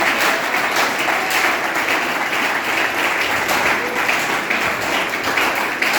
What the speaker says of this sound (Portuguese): Dê uma linda salva de palmas bem forte